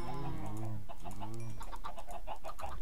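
Chickens clucking in the Minecraft video game, several birds chattering in short repeated bursts close by, with harmonic calls overlapping one another throughout.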